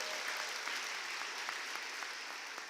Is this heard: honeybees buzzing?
no